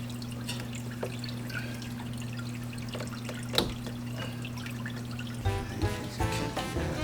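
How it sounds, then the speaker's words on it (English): Water from an aquarium filter trickles through a sponge and splashes steadily over a low electrical hum, with a brief burst of louder bubbling near the end. "the sponge here also helps the water just diffuse everywhere, so it's not hidden here and splashing all over the place"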